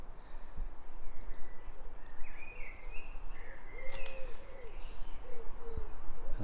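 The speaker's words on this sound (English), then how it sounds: "And I'm beset by wood pigeons." Wood pigeons coo in a repeated soft rhythm at an allotment in fading evening light, moderately distant over a noisy outdoor background, with other birds calling faintly.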